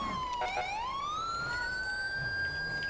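A police car siren wails close by in a video game (GTA 5), its tone sweeping down and then climbing into a long, steady high pitch.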